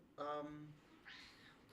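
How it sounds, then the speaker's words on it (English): A single house cat gives one close, quiet meow with a drawn-out rising and falling tone, followed by a brief softer vocal sound, in an otherwise quiet room. "If she continues meowing, I will probably just have to stand up and let her out."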